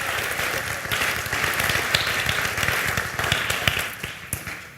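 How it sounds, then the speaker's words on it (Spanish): A church congregation claps steadily for several seconds in a dense, continuous burst of applause, loud and close with no pauses. "Give a mighty clap to Jesus Christ."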